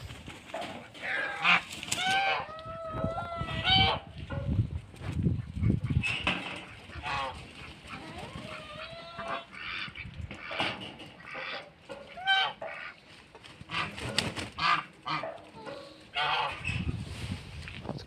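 Chickens moving about a snowy farmyard in winter in the Lviv region of Ukraine, with repeated clucks and louder squawking calls close by, mixed with other fowl calls and faint background noise throughout.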